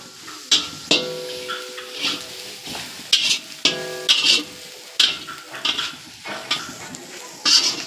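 Potato masala fries in a pan with turmeric, giving a continuous sizzle while a metal spoon scrapes and clanks against the pot in repeated stirring strokes, loud and close.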